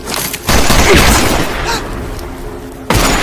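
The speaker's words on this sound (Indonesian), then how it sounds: "Floyd yang ada di atap gedung pun memulai tembakan" Film gunfire from a shooter on a building rooftop, a dense, loud burst of shots and booms filling most of the clip, easing slightly midway before a sharp fresh blast near the end.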